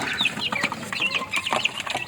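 Backyard roosters cluck and call in quick, scratchy bursts across a couple of seconds, close to the microphone with no talking.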